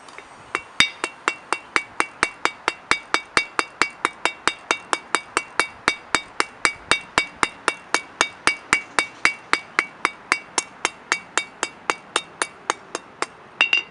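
Hammer blows shape a hot steel leaf on an anvil, a long, evenly spaced run of sharp ringing strikes, close and loud, about three per second with no talk.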